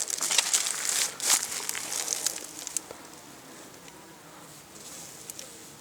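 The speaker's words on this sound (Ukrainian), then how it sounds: "Бджоли висять кублом" A dense swarm of honeybees buzzes close by, a busy high hum with crackly wing bursts that grows quieter and steadier toward the end.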